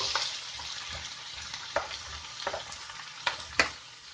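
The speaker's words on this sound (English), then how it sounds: "We're going to give that a good stir." Vegetables sizzle in a hot pan as persimmon marinating liquid is stirred in, with a steady frying hiss and a few sharp scraping stirs of the spoon against the pan, close up and without voices.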